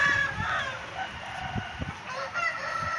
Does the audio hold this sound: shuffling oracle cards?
no